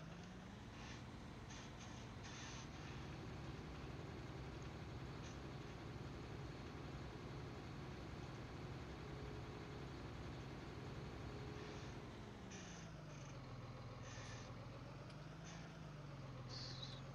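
A tractor engine rumbles steadily in Farming Simulator 19, a continuous low drone that shifts pitch near the end as the machine arrives and maneuvers.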